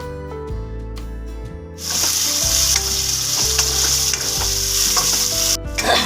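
Potatoes cooked with spice masala sizzle and fry loudly in a pan, with repeated scraping stirs throughout and the frying growing much louder partway through, no talking.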